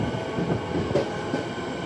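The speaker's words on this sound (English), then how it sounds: "Siemens train." A passing Siemens electric train on the Melbourne network rumbles steadily with a low mechanical hum and faint wheel noise, fairly close.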